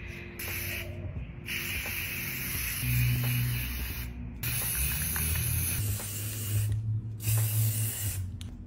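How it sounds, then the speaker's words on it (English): Spray can hissing as light purple paint is sprayed onto a chandelier part, several steady bursts of close, loud hiss separated by brief silences where the nozzle is released. "I'm gonna spray paint it a fun color to match the chandelier, a really pretty light purple."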